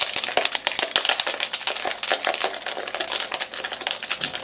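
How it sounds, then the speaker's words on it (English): Metal keys shaken and scraped against the back of a Jet Black iPhone 7, a dense, continuous jangling and clattering scratch close to the mic, loud and busy throughout with no talking. "just shake things up with these keys on this phone"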